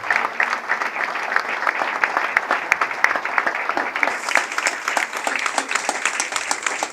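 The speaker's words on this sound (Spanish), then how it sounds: "Fuerte palmas para el Señor" A church congregation claps loudly for the Lord during a service, producing sustained, dense applause from many hands that swells slightly toward the end.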